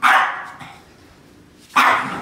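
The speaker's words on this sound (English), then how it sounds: "He's growling." A dog growls and barks, with one loud bark, a low rumbling pause, then a second sharp bark, close to the microphone.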